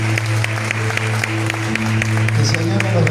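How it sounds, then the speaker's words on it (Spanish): A church congregation applauds, an even patter of clapping running under a steady low musical hum and a sustained voice, holding at a similar level for about three seconds. "¿Cuánto le dan un aplauso al Señor?"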